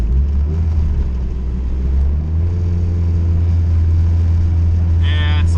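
Honda CRX engine cruising in third gear at just over 2,000 rpm under light load, a steady low droning hum with road rumble inside the car, holding even throughout with a faint brief tonal squeak near the end.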